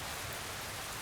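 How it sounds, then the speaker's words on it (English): Steady, dense rain falls in the video game Len's Island as an even, continuous hiss with no breaks or voices. "I wish it would quit raining."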